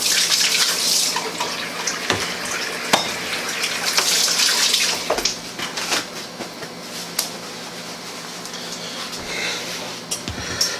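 Tap water runs steadily into a sink as hands are washed beneath it, a close, loud, continuous splashing rush with shifting bursts and drips that eases off toward the end, with no voices.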